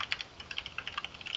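Fingers type on a computer keyboard in a quick, irregular patter of light clicks, close by and fairly faint, with no voices.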